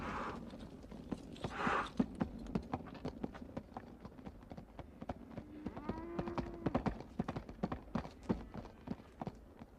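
Hooves clop steadily as horses walk over hard ground, with a low animal snort and faint background noise.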